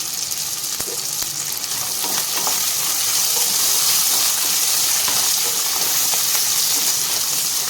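Steady, close sizzling of medium-sized onions frying in hot oil for a dry fish gravy, a dense crackling hiss with occasional stirring clatter, no voices.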